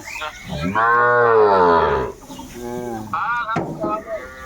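Cattle moo nearby, with one long, loud, drawn-out low call followed by shorter moos, and a voice comes in briefly near the end.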